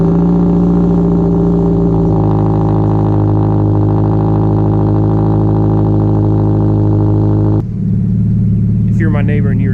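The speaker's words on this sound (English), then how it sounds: "This is a cold start on a 2013 Scion FRS." Cold start of a 2013 Scion FR-S on a mild morning, the engine roaring loud at high idle with a steady droning tone, then the revs drop suddenly near the end as a voice begins talking.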